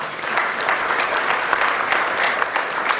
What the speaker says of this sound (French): c'est Antoine Petit, on peut l'applaudir également.